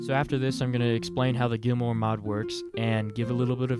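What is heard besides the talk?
None of the usual background noises is heard.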